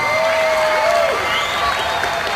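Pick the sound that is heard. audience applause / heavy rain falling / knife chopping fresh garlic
audience applause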